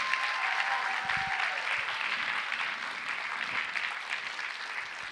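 A TEDx audience at Austin College claps in a long, even round of applause, broad crowd clapping that fades slightly toward the end.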